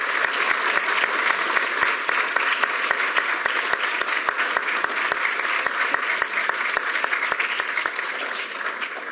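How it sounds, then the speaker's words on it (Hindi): An audience at an International Yoga Day event applauds to welcome a guest, a sustained loud ovation of many clapping hands with a regular rhythmic clap pattern running through it. "स्वागत में बहुत सी तालियां बजाएं।"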